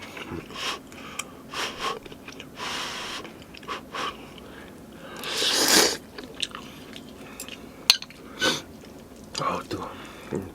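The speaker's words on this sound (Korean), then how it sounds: "국수를 좀 삶아셔가지고 요거 같이 먹어보도록 하겠습니다" Someone eating boiled noodles up close, with slurps, soft chewing and a few crunchy bites, broken by sniffs and quiet whispered speech.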